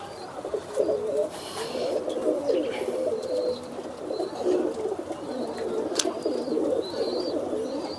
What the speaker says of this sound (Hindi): ये लाल आंख के कबूतर ना